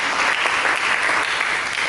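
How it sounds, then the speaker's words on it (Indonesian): Lively applause from a church congregation during a sermon, a dense, even wash of clapping that holds steady for about two seconds. "Mari kita berikan tepuk tangan yang meriah bagi Yesus"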